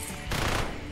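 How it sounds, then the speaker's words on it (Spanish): A robotic turret companion in the roguelike mining and horde-survival video game Repetendium fires a quick, dense burst of automatic shots, loud and close, over a short moment. "la torreta se lo marca, ¿eh? Dispara poco."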